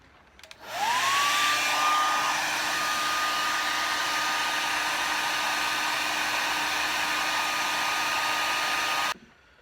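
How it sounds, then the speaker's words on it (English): A hair dryer switches on and blows steadily at close range with a high whine, warming a knife's leather handle for several seconds before cutting off. "I'm actually going to take my hair dryer again, and I'm going to warm it up a little bit more"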